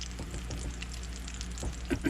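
Batter sizzles quietly in a hot pan, a soft, steady crackle with a few brief louder pops near the end.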